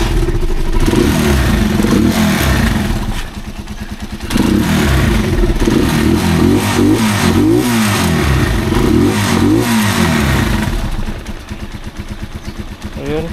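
A Rusi Chariot 175 motorcycle idles and revs close by, its engine clattering noisily from a broken air cleaner beside the motor, with rhythmic chugging and a brief dip in loudness midway.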